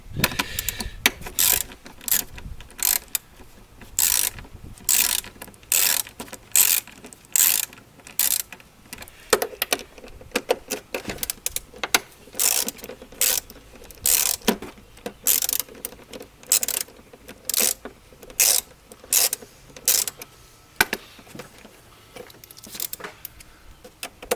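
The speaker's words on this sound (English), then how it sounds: "What we're going to be using is a 10mm socket right here. Go ahead and take this off." A 10mm socket on a ratchet loosens the top cover bolts on a Nissan Frontier or Pathfinder, making bursts of rapid clicking strokes with short pauses between them, close and fairly loud.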